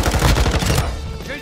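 Rapid automatic gunfire in a video game: a dense burst of loud, close shots for under a second, then a decaying echo tail.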